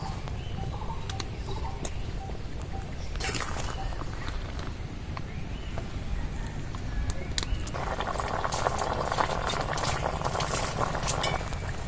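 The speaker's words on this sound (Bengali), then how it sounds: "ঝোলটা ফুটে গেছে" Fish curry of snakehead fish with raw mango bubbling in a pot, a steady close simmer and hiss running throughout, with a few clinks of a utensil and a brief rise in sizzle near the end.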